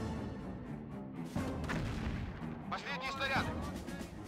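An artillery battery firing in the Talvisota winter war video game, deep booming blasts rolling under a dense layer of battle noise, with a voice speaking over it.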